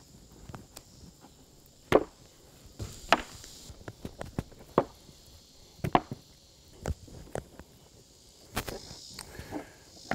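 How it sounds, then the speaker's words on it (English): A knife cuts straight down through bison tomahawk ribeye along the bone, giving a series of sharp, irregular chopping knocks with short pauses between them. The strikes are close and clear over a quiet background. "So you can just use your knife and cut straight down."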